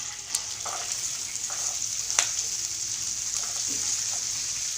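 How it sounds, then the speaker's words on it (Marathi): Green peas sautéed in hot oil with garlic masala and turmeric, a steady soft sizzle with a few light spoon taps and stirring scrapes. "हे वटाणे छान आपण तेलामध्ये परतून घेऊ"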